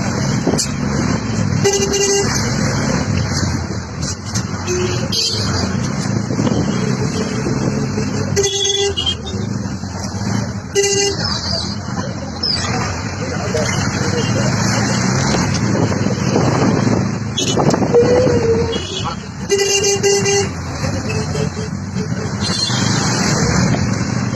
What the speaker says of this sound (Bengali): তো বন্ধুরা আমি এখন গাড়িতে আছি, স্টেশনের দিকে যাচ্ছি।